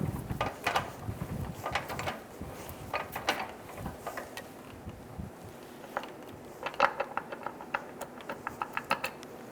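A spring compressor tightens on a front strut assembly from a 2007-2011 Toyota Camry, giving bursts of metallic ratcheting clicks and clanks in uneven runs, close by and moderately loud, without speech.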